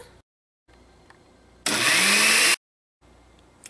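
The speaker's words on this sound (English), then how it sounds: "I'm going to put all these ingredients into my blender and give it a blend until it's nice and fine" A kitchen blender whirs loudly for about a second while chopping garlic and thyme seasoning, starting and stopping abruptly between quiet gaps.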